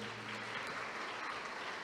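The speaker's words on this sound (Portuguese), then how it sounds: "A ele uma salva de palmas, senhoras e senhores." Brief, faint clapping from an audience at a business award ceremony in Guanambi, a steady patter of applause heard from a distance.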